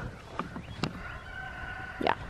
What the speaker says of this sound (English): Well, I know that you're a chicken.